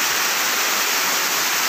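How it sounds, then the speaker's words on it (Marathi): A tall waterfall roars as a dense, continuous rush of falling water, loud and steady throughout, with no voices over it. "हा या ठिकाणी धबधबा पडतो."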